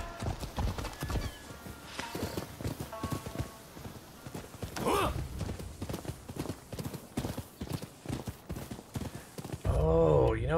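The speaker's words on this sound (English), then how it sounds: "Get back on the horse." Steady rhythmic hoofbeats of a galloping horse in the video game Rise of the Ronin, close and loud, with a brief whinny midway and a voice speaking over the end.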